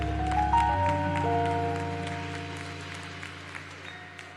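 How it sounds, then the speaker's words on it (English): Audience applause rises to welcome a speaker onto the stage at a Rainbow PUSH Father's Day and Juneteenth gathering, steady clapping with a sustained musical tone running underneath. "Put your hands together"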